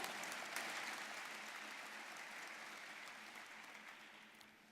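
Audience applause at a civic event in Lincoln, a steady wash of clapping that stays faint and distant before gradually thinning out.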